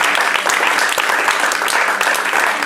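A church congregation breaks into loud, sustained applause to acclaim God during a sermon: dense, continuous clapping with scattered voices mixed in.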